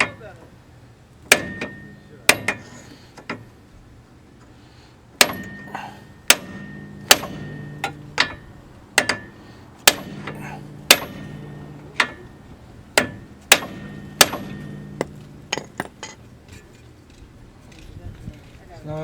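A hammer strikes metal repeatedly to loosen a stuck knuckle bearing on a 2006 Chevy Aveo, delivering sharp ringing clanks in irregular bursts with short pauses between groups of blows.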